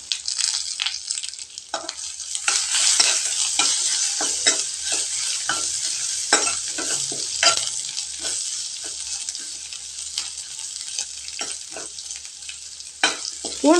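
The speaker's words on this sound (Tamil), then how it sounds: "இப்போ பூண்டும் வரமிளகாயும் நல்லா செவக்கட்டுங்க" Garlic and dried red chilies frying in hot oil, a dense steady sizzle with frequent crackles and scraping stirs running throughout, close and fairly loud with no talking.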